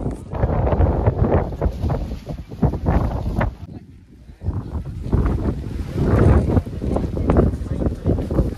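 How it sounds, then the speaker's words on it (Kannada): Strong monsoon wind roars across the Kodachadri mountain top in Karnataka, buffeting the microphone in loud, continuous gusts with a brief lull partway through. "ವಾಯ್ಸ್ ಕೇಳ್ಸಾಕೈತಿ ಗೊತ್ತಿಲ್ಲ, ಅಷ್ಟು ಗಾಳಿ ಬೀಸಾಕೈತಿ."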